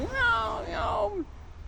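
A voice imitates a cat's plaintive meow, one drawn-out wavering cry of under two seconds, close and clear.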